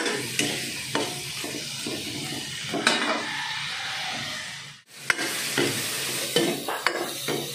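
Shrimp frying in hot oil for sinigang, a steady loud sizzle with occasional clinks and scrapes of a utensil against the pan, broken by one brief pause.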